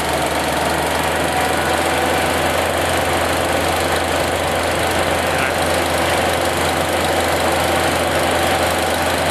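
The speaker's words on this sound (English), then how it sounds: "We just started cranking the PTO. We're bringing her up to 550." A tractor's PTO is run up to 550 to chip gasifier fuel, producing a loud, steady mechanical roar with a low knocking engine drone that holds constant throughout, close and without speech.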